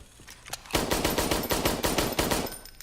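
Rapid bursts of video-game gunfire at a shooting range, a dense run of close, loud shots after a few scattered single reports, then stopping near the end.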